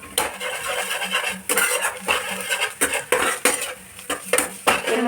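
Spoon scraping and clanking against a metal pan while stirring food seasoned with chilli powder, a series of loud, irregular metallic clatters close by.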